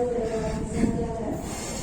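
An electric commuter train rumbles out of a station steadily with low rail noise and a faint squealing tone from the wheels, heard from nearby on the platform.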